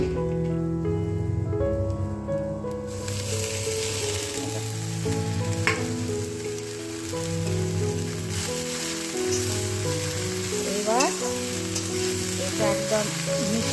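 Greens fry in oil with panch phoron and green chili in a pan, giving a steady, close sizzle that runs throughout beneath a tonal musical background, with occasional stirring scrapes.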